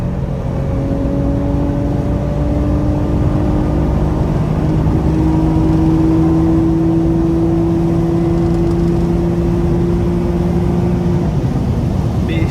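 A tuned 2006 Acura TL with a five-speed automatic revs toward redline in third gear, its engine tone rising in a long, steady climb under loud road and wind roar before easing off near the end.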